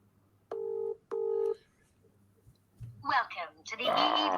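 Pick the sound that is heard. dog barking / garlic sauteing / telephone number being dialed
telephone number being dialed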